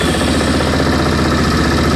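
Yamaha Kodiak 450 ATV engine, after sitting for eight years, running on choke just after firing up: a loud, steady, close-up single-cylinder chug with a rapid even pulse throughout.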